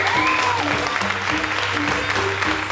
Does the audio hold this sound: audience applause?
yes